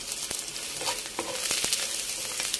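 Broccoli frying in a pan with garlic, a steady close sizzle broken by sharp clicks and scrapes of stirring, heard alone with no talk.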